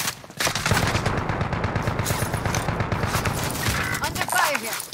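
Rapid automatic gunfire in a multiplayer first-person shooter match, sustained bursts close and loud, with overlapping voices and game announcer chatter running underneath.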